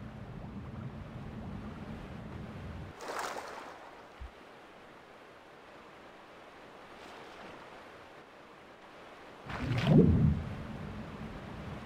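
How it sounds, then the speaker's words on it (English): Rushing water from a waterfall and flowing current in the Thief video game makes a broad steady roar that drops away after a few seconds, leaving a quieter wash with brief swells and a louder surge near the end. "Guess that's not surprising with a waterfall like that."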